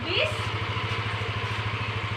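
A Yamaha Aerox 155 motor scooter engine idles steadily up close with an even, pulsing low putter, with a brief voice at the start.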